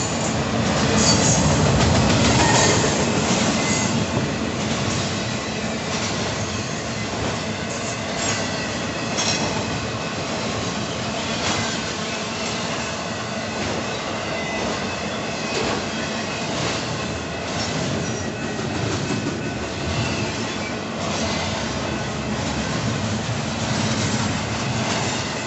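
Union Pacific northbound intermodal freight train with tanker cars rolling past, a continuous rumbling roar with rhythmic wheel clatter and faint squeals, steady and fairly close for the whole stretch.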